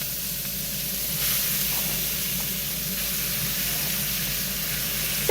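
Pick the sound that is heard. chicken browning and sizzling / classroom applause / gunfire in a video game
chicken browning and sizzling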